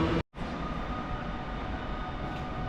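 Passenger train at Kraków Główny station, heard as a steady, loud rumble of rolling wagons with a faint high whine, briefly cut out near the start and then continuing unbroken.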